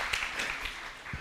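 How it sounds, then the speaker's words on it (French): Brief burst of scattered clapping from a conference audience applauding a participant at a French business event, light and fairly faint, fading within about a second. "On peut applaudir Sarah"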